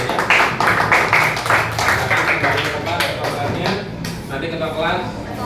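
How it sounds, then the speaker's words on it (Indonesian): Fifth-grade classroom giving itself a round of applause during a religious education lesson, loud rhythmic clapping from many children at first, fading under chatter and voices toward the end. "tepuk tangan buat kita semuanya"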